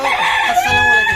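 A rooster crows at a busy market on a winter morning, a loud, close, drawn-out call rising and wavering over a short span while someone speaks a greeting over it.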